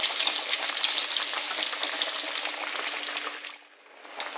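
Breaded chicken cutlet deep frying in hot oil for Korean chicken katsu, a steady close bubbling sizzle that holds loud and dense before dropping off near the end.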